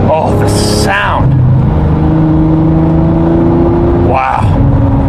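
A Lamborghini Murcielago LP640 V12 engine revs twice in loud, rising sweeps under a steady cabin rumble, while a person talks over it.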